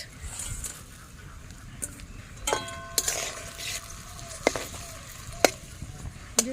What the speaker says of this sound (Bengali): এখন দিয়ে দিচ্ছি বেজে রাখা মাছ